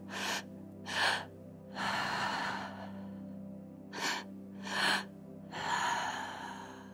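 Six breaths drawn audibly in and out through the mouth, alternating short and long, with a low steady hum underneath.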